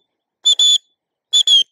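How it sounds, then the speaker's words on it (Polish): A dog-training whistle gives four short, shrill blasts in two quick pairs, separated by a pause of about a second. The blasts are close and loud, with silence between them. "dajemy szereg krótkich gwizdków"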